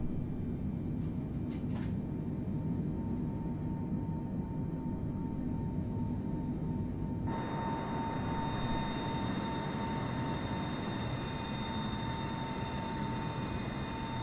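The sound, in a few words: aircraft engines at full power during takeoff roll, from the video game Microsoft Flight Simulator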